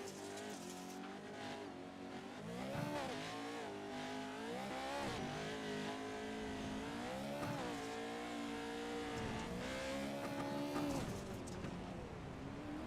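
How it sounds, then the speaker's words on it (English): A rally car engine in the Dirt Rally racing game revs hard and continuously, its pitch rising and dipping as the throttle is lifted and reapplied, loud and close with no talking. "Hear him let out of the throttle right there"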